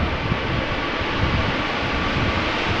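Airliner arriving at Amsterdam Schiphol Airport in crosswind conditions, a loud, steady broadband engine roar filling the whole moment without any letup.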